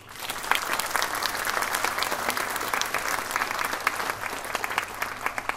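An audience at the final of a folk education project gives sustained, full-room applause, a dense continuous clatter of many hands that holds steady throughout.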